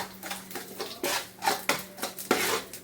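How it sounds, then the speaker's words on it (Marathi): Mustard seeds crackling and popping in hot oil while frying chivda, a string of sharp irregular snaps close up with a steady faint hum underneath and no talking. "आता हे झाल्यावर बघा राईचा आवाज आलाय"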